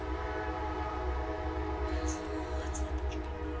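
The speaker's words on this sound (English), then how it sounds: "Let's let the train pass" A train rumbles past with a heavy steady low drone, a few faint high squeals or whistle-like tones near the end.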